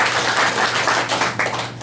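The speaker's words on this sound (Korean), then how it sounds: "큰 박수를 보내주세요" Loud, sustained clapping from an audience at a farmers' cooperative gathering, a thick continuous patter that swells slightly and then begins to thin toward the end, with a low steady hum beneath.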